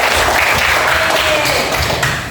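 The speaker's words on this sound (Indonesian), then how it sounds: "Beri tepuk tangan." A classroom of students claps loudly and close to the recorder during an Indonesian language lesson, a busy, uneven burst with some thumps and voices mixed in.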